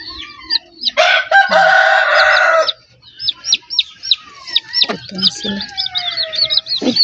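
A mother hen clucks steadily near newly hatched chicks, whose high repeated peeping fills the clip, with a loud burst of squawking flutter partway through and a person speaking quietly in the background.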